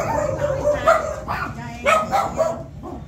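Several dogs bark and yip in short, fairly close bursts, mixed with whimpers, while people talk over them.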